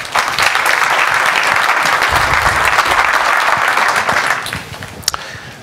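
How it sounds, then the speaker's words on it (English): Conference audience applauding for a talk at FOSDEM 2014, a loud dense clapping that holds steadily for about four seconds and then thins out to a few scattered claps. "Let's applaud him."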